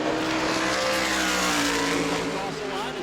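A NASCAR Whelen Modified race car runs a qualifying lap at New Smyrna, its engine roaring loud and steady throughout while commentators talk over the noise.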